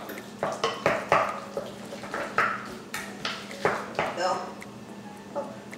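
Keto fathead pizza dough stirred in a bowl, a series of regular clinking, scraping strokes of a utensil against the bowl, repeating about once a second, with some talk in the background.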